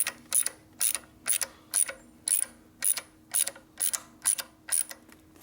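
A ratcheting wrench turns a metric bolt on a 1964 Harley Sportster XL Ironhead chopper, making a close, rhythmic series of about a dozen crisp clicking strokes with brief pauses between them.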